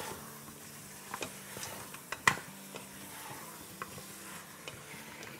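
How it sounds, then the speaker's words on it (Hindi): Ginger and garlic paste sautéing in a 6-quart Instant Pot, a quiet, steady sizzle broken by occasional spoon scrapes and clicks against the pot, with one sharper knock near the middle. "इसको हम भूनते हैं।"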